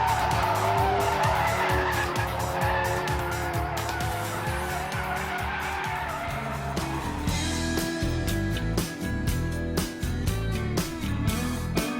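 A Ford Focus RS drifts in its drift mode, tires squealing and skidding over a loud, revving engine. The squeal swells and wavers at close range, and the engine note shifts partway through without easing.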